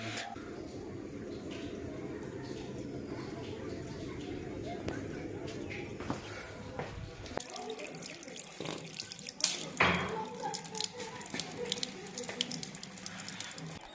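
Water runs steadily from a tap fed by a repaired instant gas geyser, then breaks into splashing and clattering as the flow is disturbed, with someone talking over it.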